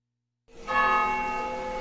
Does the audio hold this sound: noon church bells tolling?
yes